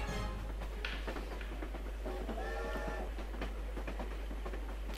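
A train rumbles and clatters in the video game Dungeonland, a steady low drone with rhythmic rail clacks and a few tonal squeals, playing alone without talk.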